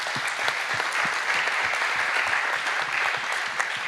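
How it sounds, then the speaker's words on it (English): A conference audience claps steadily for a panel of speakers, a dense, even wash of many hands applauding throughout with no voices over it. "Big applause for all the panelists"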